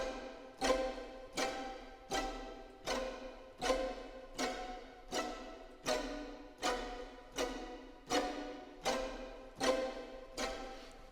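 Col legno strings from music composition software, bowed with the wood of the bow, sound as a quiet, steady train of percussive, clicky hits with short resonant tails, evenly spaced about once a second.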